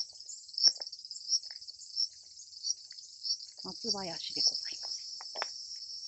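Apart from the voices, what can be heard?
cicadas singing in a seaside pine grove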